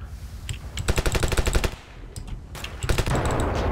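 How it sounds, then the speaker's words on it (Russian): Guns fire in the battle game Ravenfield, rapid bursts of machine-gun fire with a short pause, then more crackling shots, loud and close. "По мне с пушек стреляют."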